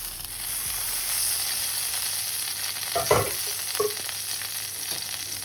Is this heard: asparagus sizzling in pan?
yes